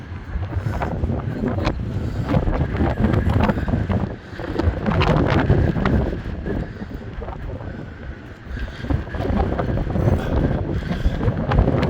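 Strong wind on the Blackpool promenade buffeting the microphone, a continuous loud roar with gusty surges and brief dips, no voices.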